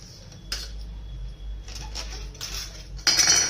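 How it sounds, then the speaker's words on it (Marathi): Drumstick pods being cut with a knife, a few crisp cutting clicks and scraping taps on a board, close and fairly loud, with no speech. "शेंगा अशा चिरून घ्यायच्या"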